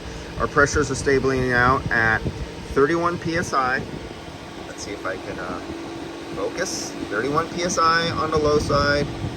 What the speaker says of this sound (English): You can hear the fan on right now.